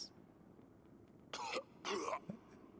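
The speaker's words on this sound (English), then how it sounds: "Cough, cough." Two short, rough coughing bursts from a video game character, close and fairly loud, each lasting about a quarter second and separated by a brief pause, over a faint background hum.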